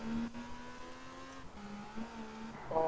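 Engine drone and a braking car in the racing video game Test Drive Unlimited, set in Hong Kong, with steady tonal whine near 200 mph that shifts and dips as the car brakes.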